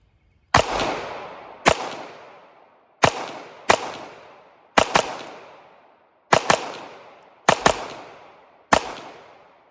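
Pistol shots fire one after another at an outdoor range, seven loud sharp cracks spaced about a second apart as a magazine is emptied, each followed by a short decaying echo.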